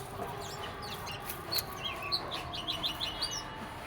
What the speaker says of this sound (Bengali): আরে কি সুন্দর পাখি, চলে গেল